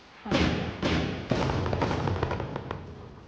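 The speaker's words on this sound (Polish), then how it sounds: "fajerwerki lecą" Fireworks in a video game, Star Stable Online, go off in a rapid series of booming bursts and crackles, with a few softer pops trailing after, loud and close.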